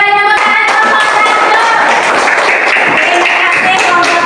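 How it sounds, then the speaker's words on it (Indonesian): A classroom group claps for a presenting team during a teaching practice session. The clapping is loud and close, a steady mass of hand claps with some voices mixed in. "Oke, tepuk tangan kelompok"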